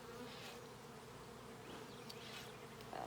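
Honey bees hum in a dense, steady drone close by at an open hive during an inspection, with a brief louder buzz near the end and no talking.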